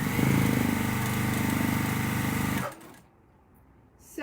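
A sewing machine stitches quilt fabric strips in a fast, loud, steady whir that stops abruptly partway through, followed by near silence and a faint click.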